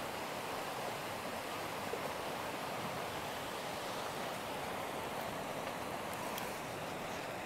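A stream runs past rural land near a durian garden, its steady rushing hiss constant and close throughout, with no voices.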